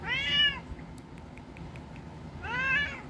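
A cat named Feona meows twice, each a loud, drawn-out rising-and-falling call, separated by a couple of seconds of quiet room tone, close to the microphone.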